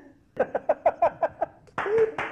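A run of about seven sharp hand claps at a steady quick beat, close by, followed by a brief burst of voices, on a domestic scene in a Marathi TV serial.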